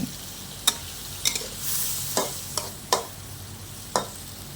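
Sweet and sour shrimp with cucumber stir-fried in a pan after a splash of water is added, giving a soft steady sizzle broken by a handful of sharp spatula scrapes and clinks at irregular intervals.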